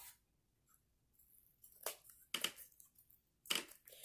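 Paper overhang is cut away from the edge of a board in a quiet room: a few brief, crisp snipping crunches come at irregular intervals, with near silence in between.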